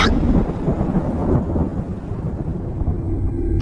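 Thunder in a Hindi horror story, a loud, deep rumbling crack that rolls on and slowly fades, with rain hissing steadily underneath.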